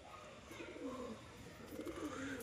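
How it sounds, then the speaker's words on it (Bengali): A stout male pigeon, a single bird shown by its keeper, coos in soft low rounded phrases close by, repeated over a background murmur. "এই হচ্ছে কবুতরটা,"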